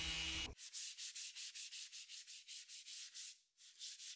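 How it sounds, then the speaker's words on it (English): A random orbital sander works over wooden coffee table legs, a steady close whirring grind pulsing in a regular rhythm of strokes, with a brief different noise at the very start and a short dip near the end. "I sanded the legs with my random orbital sander and then finished with a sanding sponge."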